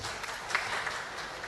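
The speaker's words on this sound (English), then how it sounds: "let us give a big applause to Dr." A faint, distant wash of audience applause for a speaker at a college technical event holds steady throughout, soft and diffuse with no distinct claps.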